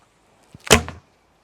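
One arrow loosed from the Hard Core Bows Scorpion prototype bow, a short, loud, close release with a dark, deep thud, preceded by a faint click, in otherwise quiet surroundings.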